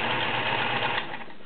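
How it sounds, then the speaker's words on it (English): A vintage 1941 Kenmore convertible sewing machine runs a straight stitch, giving a steady, fast mechanical whir with dense needle chatter, close and loud throughout, easing slightly near the end. "Kenmore's just sound so good when they're sewing."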